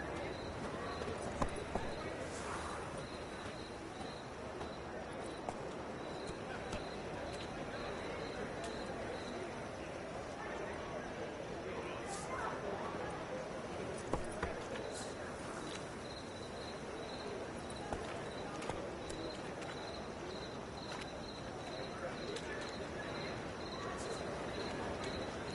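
Hooves of the horse Roach clip-clop at a steady walking rhythm in a video game, fairly faint beneath a constant bed of crickets and insects, with occasional short thumps.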